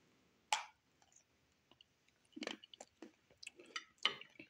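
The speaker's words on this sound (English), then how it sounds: "I will chew it for you, bruv." Close, quiet chewing of a Lindt Lindor 60% extra dark chocolate truffle: a sharp bite followed by a series of soft wet crunches and smacks at irregular intervals.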